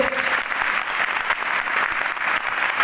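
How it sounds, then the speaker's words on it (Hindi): A crowd at a New Year's welcome event in Lucknow claps loudly and continuously, a dense, even wash of applause from start to finish. "तालियां हो जाओ सबके लिए"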